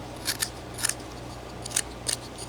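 Knife blade paring wood while whittling a carved figure pair, giving a handful of short, crisp scraping cuts spaced irregularly, close and fairly quiet over a low steady hum.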